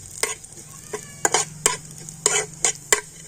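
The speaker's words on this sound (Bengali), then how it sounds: "ঘিয়ের সাথে এটা একটু হালকা করে ভেজে নেব" Chopped almonds and cashews frying lightly in ghee, with a low, gentle sizzle beneath several crisp, close spoon scrapes and taps against the pan, coming in a loose, uneven rhythm.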